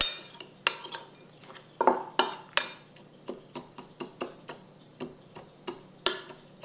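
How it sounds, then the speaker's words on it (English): Spoon stirring a brown sugar and kosher salt spice rub in a bowl for pulled pork, crushing sugar clumps; a steady series of light clinks and scrapes against the bowl, close and fairly quiet, with no talking. "we're going to stir it up. Crush up that brown sugar if it's in a clump"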